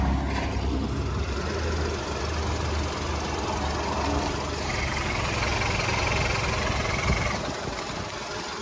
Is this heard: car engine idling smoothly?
yes